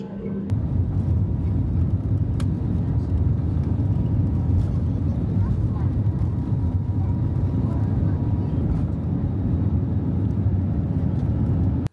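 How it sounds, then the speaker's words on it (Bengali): An Uzbekistan Airways Airbus A320 speeds down the runway on its takeoff roll from Kolkata, a loud, continuous low engine roar heard from inside the cabin, steady and unbroken, with faint rattles on top. "যতক্ষণে রানওয়েতে গতি বাড়িয়ে বাণিজ্য নগরীর আকাশ প্রায় ছুঁয়ে ফেলেছে উজবেকিস্তান এয়ারওয়েজের এয়ারবাস 320"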